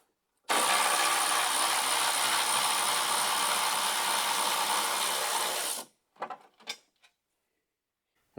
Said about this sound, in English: you should be able to get to with a ratchet or impact